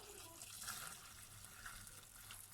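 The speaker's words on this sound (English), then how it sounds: "you can pour on some boiling water from your kettle" Boiling water poured from a kettle onto pasta and a chicken stock cube for mac and cheese, a soft continuous splashing gush, close but quiet, with no talk.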